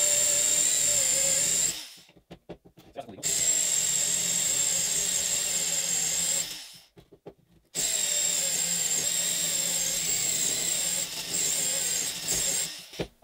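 A power drill fitted with a glass drill bit grinds into stone in long, high-pitched whining bursts, stopping twice for short pauses before starting again.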